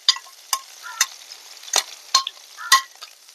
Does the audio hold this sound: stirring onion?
yes